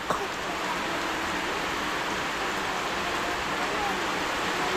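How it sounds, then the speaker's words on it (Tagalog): Heavy rain pours down steadily at a small nipa hut, a dense, continuous hiss of downpour that stays loud and even throughout, with no pauses. "Biglang bumuhos yung ulan."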